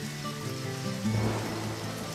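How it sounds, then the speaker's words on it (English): Rain in the video game Deadly Premonition makes a steady, soft hiss that runs through the whole stretch, with sustained musical tones layered over it and no one talking. "I guess it is raining."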